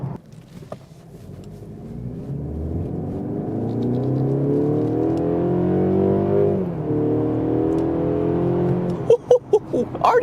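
A 2024 Mercedes-Benz CLE 300 mild-hybrid coupe accelerates hard on the road, its engine note climbing steadily through the revs, briefly dipping at a shift, then pulling again, with a few clicks near the end.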